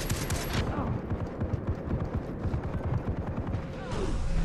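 Gunfire in the video game Far Cry 3 rattles in rapid, close bursts, a dense volley of shots with brief gaps and no voices.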